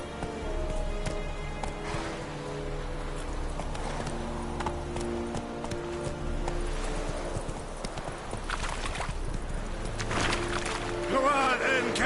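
Hooves of Roach, a horse in The Witcher 3 video game, clip-clopping in a steady trotting rhythm over game music and light rain ambience, with a voice speaking at moments.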